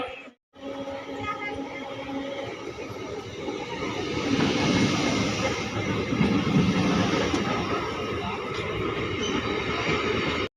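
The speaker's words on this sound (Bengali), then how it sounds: "আমাদের ট্রেন এখন আসছে দুই নম্বর প্ল্যাটফর্মে ট্রেন আসছে" A train pulls into platform two at Raniganj station in India, a steady broad rumble that swells louder midway and holds as the cars roll past, with faint crowd murmur behind.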